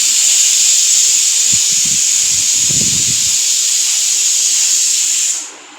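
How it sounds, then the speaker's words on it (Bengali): Pressure cooker steadily hissing a loud, continuous steam whistle while cooking mutton, holding for over five seconds before cutting off abruptly, with faint low clattering underneath. "তো মটনটা সিটি করছে"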